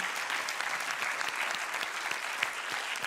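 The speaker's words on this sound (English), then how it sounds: "Please, a final applause for Vera." Audience applause for an award winner at an academic award ceremony, a steady dense wash of many hands clapping throughout, moderately loud with no talk over it.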